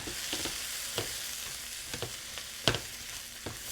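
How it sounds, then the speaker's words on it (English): A spoon stirring a sizzling low-carb pasta-less sauce in a pan, soft scrapes and taps over a steady frying hiss, close by with no talking. "let me stir that up just a little bit"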